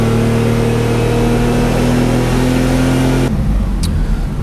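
Turbocharged BMW E46 328 engine held at a steady rev near 4000 rpm, a loud continuous droning hum that cuts off abruptly to a lower idle-like rumble near the end.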